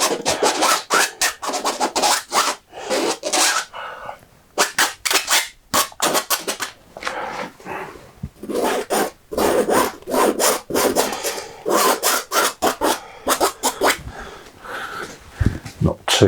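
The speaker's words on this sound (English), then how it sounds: "put some scrapes and scratches on, something leading down from up here. Some scrapes in the distance as well." Oil paint on a stretched canvas being scraped and scratched in quick, uneven bursts of harsh rasping strokes, close and loud, separated by short pauses.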